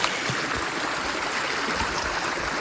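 Shallow river water rushes and splashes steadily close by as someone wades through the flowing stream.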